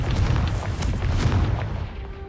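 A Confringo spell in a Harry Potter video game lands as a short, heavy booming blast with a rumbling burst that decays quickly.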